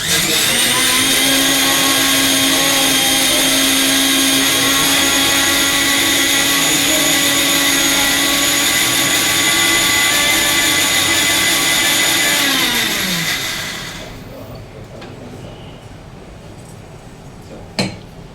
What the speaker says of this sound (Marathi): छान बारीक वाटून घेऊ मिक्सरमध्ये.